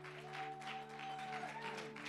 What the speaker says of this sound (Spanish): Dele más fuerte esa ofrenda de palmas al Señor.